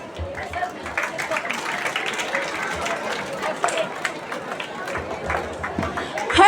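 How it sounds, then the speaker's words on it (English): School audience at a Teachers Day celebration giving a student a round of applause, steady moderate clapping with crowd murmur, building slightly near the end. "So let's welcome her with a warm round of applause."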